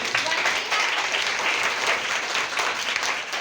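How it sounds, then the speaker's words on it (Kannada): Sixth-class students clap together in a primary school classroom during a quiz competition, a loud, dense, continuous round of applause throughout with faint voices mixed in. "ಎಲ್ಲರೂ ಜೋರಾದ ಚಪ್ಪಾಳೆಗಳೊಂದಿಗೆ ಒಂದ್ಸಲ"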